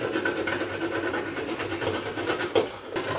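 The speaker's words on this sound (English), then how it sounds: "I'm going with the grater" A hand grater rasps steadily against fresh coconut, a close, continuous scraping with a faint repeating rhythm of strokes and no talk.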